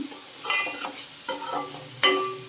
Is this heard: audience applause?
no